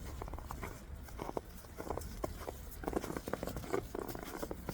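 Rain patters steadily outdoors in low light, a dense crackle of small drops with scattered sharper taps, fairly faint and continuous with no talk.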